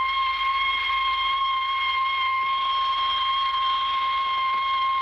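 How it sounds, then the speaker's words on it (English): A sustained whistle sounds in a tunnel, a steady, piercing multi-tone blast held without a break over low background rumble. "Some sandhogger scared of a whistle."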